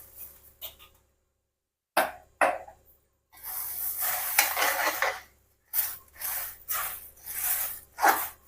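Puffed rice is stirred into thick jaggery syrup in a pan, giving intermittent bursts of dry rustling and scraping between short silences, close and moderately loud, with no talking.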